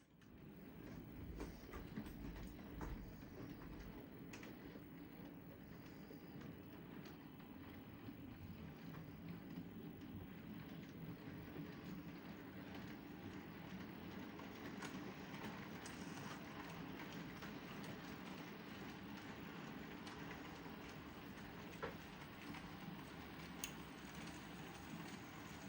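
A model railway train runs on a layout's track, a steady low rumbling and rolling clatter with faint ticking joints, even in level and fairly quiet throughout, with no talking.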